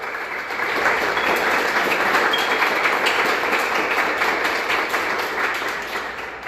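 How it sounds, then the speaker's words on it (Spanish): A lecture audience in San Luis Río Colorado breaks into sustained, dense applause for a fellow speaker, rising quickly and holding steady before tapering slightly at the end. "les pido un fuerte aplauso, por favor, a nuestro compañero"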